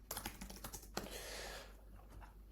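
Quiet, close clicks of fingers typing on a computer keyboard, a quick uneven run of keystrokes followed by a brief softer rustle, no talk.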